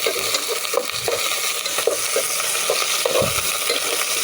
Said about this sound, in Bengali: এখন আমি নেড়ে ছেড়ে নেব।